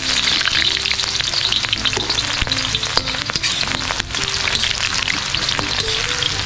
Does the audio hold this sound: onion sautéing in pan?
yes